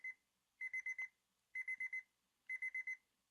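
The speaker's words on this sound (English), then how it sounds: "My alarm rips away the sanctity of sleep." An alarm clock rings in three bursts of rapid electronic beeps, each cluster of about four to five pulses separated by short silences, clear and close with no voices.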